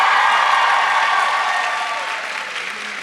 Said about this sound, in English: Can we give them a round of applause, y'all?